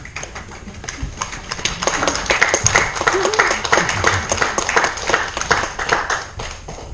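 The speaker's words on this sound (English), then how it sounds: "If you are clapping, congratulations" A theater audience at a Halloween play applauds steadily for several seconds, dense clapping rising then tapering off slightly at the end, with some crowd noise underneath.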